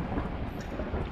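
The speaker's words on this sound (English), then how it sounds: "Thunder." Thunder in the video game The 13th Loop rolls as a steady, dense low rumble with a rain-like hiss, continuous and fairly quiet across a very short stretch.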